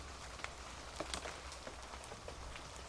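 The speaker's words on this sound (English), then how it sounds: "It's all the raindrops." Raindrops striking a trail camera outdoors, a dense crackling patter of irregular close taps over a steady hiss of rain, with no voices.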